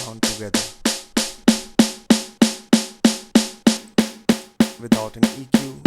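A snare drum with top and bottom microphones blended, struck in a steady even rhythm of about three hits per second, each a sharp crack with a ringing body and rattling wires, close and loud with no voices.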